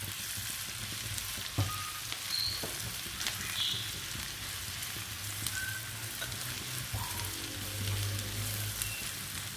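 Garlic and ginger fry in a pan for mutton handi kabab, giving a steady close crackling sizzle with occasional stirring clinks and scrapes, no voices over it.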